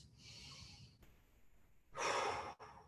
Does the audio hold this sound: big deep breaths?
yes